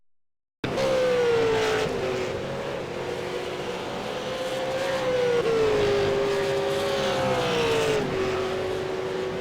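Race cars lapping Donington Park in a V8 racing game, a loud, continuous engine whine whose pitch rises and falls with gear changes, heard alone after a brief silent start.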